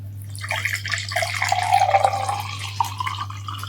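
Water is poured into a container, a continuous splashing trickle that swells and then tapers over a few seconds, close and moderately loud over a low steady hum.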